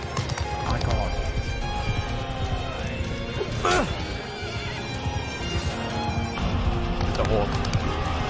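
Horses whinny and hooves pound in a Mount & Blade II: Bannerlord battle, with crashes and clashing around them. The whole scene is loud and busy, and someone talks over it throughout.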